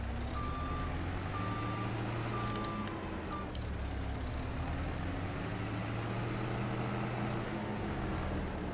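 A vehicle with a trailer reverses with repeated evenly spaced reversing beeps over a steady engine rumble, the beeps stopping partway while the engine keeps droning.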